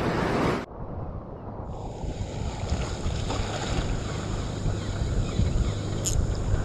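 Strong wind gusts across the microphone at a seaside fishing spot, a loud constant low roar with rushing broadband noise and a brief sharp buffet near the start.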